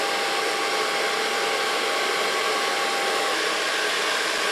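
A hair dryer blows hot air through a man's hair, a loud, steady whooshing roar that holds constant and unbroken from start to finish, with no voices over it.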